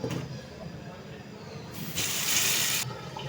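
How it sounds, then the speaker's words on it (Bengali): Taro stolons are rinsed in a kitchen as tap water gushes and splashes for about a second, loud and close, between quieter stretches of faint handling noise. "আর এদিকে লতিটা আমি ধুয়ে নিই ভালো করে।"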